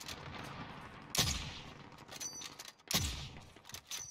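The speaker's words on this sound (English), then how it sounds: "They're firing at someone else, though." Gunfire rings out in a battle royale video game match, two loud sharp shots about two seconds apart with ringing tails, amid busy in-game ambience and small mechanical clatter.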